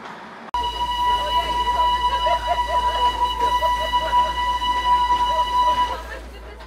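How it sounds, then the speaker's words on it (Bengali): A steam-powered Darjeeling toy train, a glass-roofed Vistadome, pulls into Darjeeling station, giving a steady rumble and a long, sustained high whistle-like tone for several seconds before fading at the end. "কিছুক্ষণ অপেক্ষা করার পর চলে এলো আমাদের ট্রেন"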